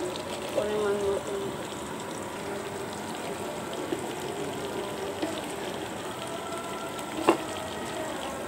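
Okra and green chillies frying in a pan with turmeric, a steady low sizzle running throughout, with a few soft clinks of a utensil and a sharper tap near the end; a voice talks faintly in the background.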